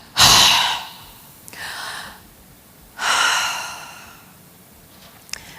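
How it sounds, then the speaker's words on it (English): Two deep breaths, each a long, close, airy inhale and exhale, the first stronger and the second after a short pause, with quiet between them and no talk. "he took 2 deep breaths"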